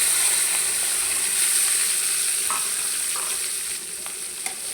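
Chopped onion and green chilies fry in fish oil, giving a continuous bright sizzle with occasional soft stirring scrapes, steady and close, with nobody talking.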